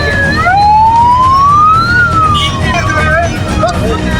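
A loud wailing ambulance siren sweeps up and down close by, over steady street traffic noise and engine rumble in Lahore.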